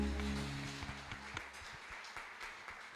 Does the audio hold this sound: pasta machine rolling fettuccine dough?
no